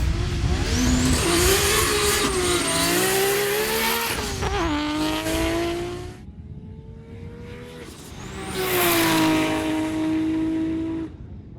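A tuned Nissan GT-R with a built 26 engine, HKS T51R turbo and E85 fuel accelerates hard down a runway, its engine howling and climbing through the gears with shifts, loud and sustained, fading briefly before surging again.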